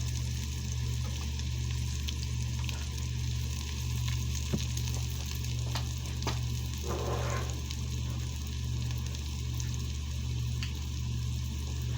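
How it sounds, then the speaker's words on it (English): Red wine vinegar poured into a hot pan of browned food for a homemade sub, a faint steady sizzle under a low hum, with scattered small pops and a brief burst of hissing midway. "Let that sizzle."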